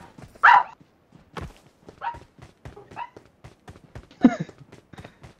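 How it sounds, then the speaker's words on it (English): A vicious dog in PUBG Mobile gives several sharp, loud barks and yips, with a few quieter bursts and footstep-like taps in between, close and clear with no talking. "That's the most vicious dog you'll ever see."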